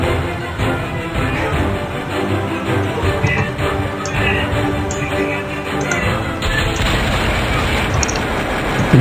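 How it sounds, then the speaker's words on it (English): Booming rocket launcher explosions and scattered gunfire from the Strike Force Heroes 2 video game, dense and continuous at close range with no pauses throughout. "Jeez, that rocket launcher, man."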